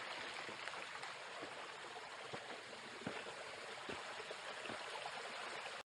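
Continuous soft rushing of water at the top of the waterfall at Bells Rapids, a steady faint wash with occasional splashes, no voices present.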